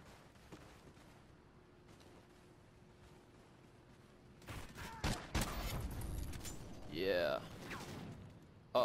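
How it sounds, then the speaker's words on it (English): Bursts of gunfire in Call of Duty: Ghosts gun game multiplayer, a quiet stretch then loud close shots and a volley in the second half, with a player's voice briefly heard. "someone's shooting at me"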